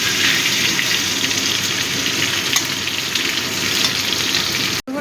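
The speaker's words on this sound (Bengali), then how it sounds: "একটু লাল লাল করে আলুগুলো ভেজে নেব।" Potatoes frying in hot oil for a prawn and cucumber curry, a steady dense sizzle that stays loud and even throughout, with no voices.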